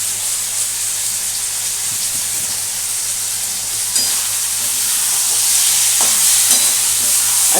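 Spiced eggplant curry (masala begun bhaji) sizzles steadily in a pan while it is stirred, a continuous frying hiss with light scraping that grows slightly louder toward the end.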